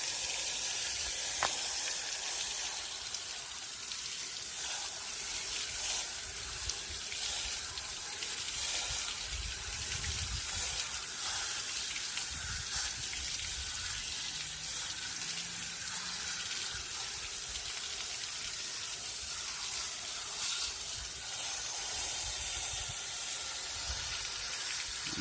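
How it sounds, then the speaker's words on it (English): A garden hose sprays water steadily onto the radiator of a 2015 Can-Am Maverick XMR side-by-side, a continuous loud hissing spray held close throughout, with no talking. "Give it a little bit more with the hose."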